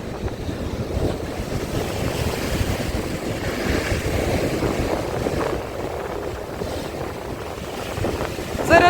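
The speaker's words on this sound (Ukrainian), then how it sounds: "Оце морська симфонія, справді. Ви чуєте, як воно грає?" Heavy Black Sea surf at Odesa roars continuously in a storm, waves churning and crashing on shore close by with strong wind buffeting the microphone.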